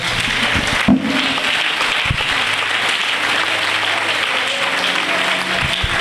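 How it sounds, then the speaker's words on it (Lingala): Church congregation applauding together in a steady, dense wash of clapping that fills the room, with faint voices and a low musical hum underneath. "Acclamons pour le roi de gloire."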